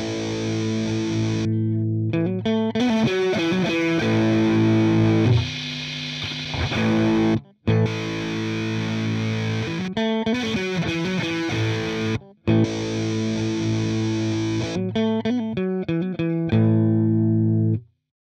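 Electric guitar played through a simple diode-based software distortion, gritty sustained chords and riffs ringing out with short silent breaks between phrases, loud and alone.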